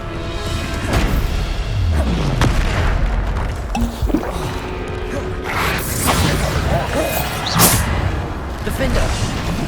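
The Bombarda spell explodes in Hogwarts Legacy with a loud booming blast, crashing and creaking debris, and mechanical rattling layered over dense game sound.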